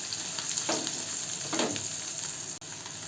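Onions with red and green chillies fry in hot oil for a paneer fried rice, a steady, close hiss of sizzling with a couple of brief stirring swells.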